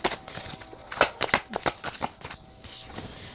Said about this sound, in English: Let me get the rest of cards out